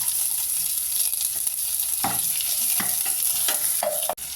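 Onions go into a pan of oil with curry leaves for a brinjal and dried anchovy curry, giving a dense, constant hiss of frying with a few soft scraping stirs near the end, close up and without speech.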